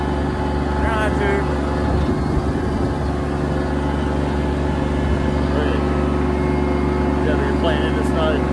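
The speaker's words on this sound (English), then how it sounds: "So just gonna play on the tractor in the snow pretty much." A tractor engine idles and runs steadily while clearing snow off a driveway during a North Carolina blizzard, a loud constant mechanical drone throughout, with a person talking over it.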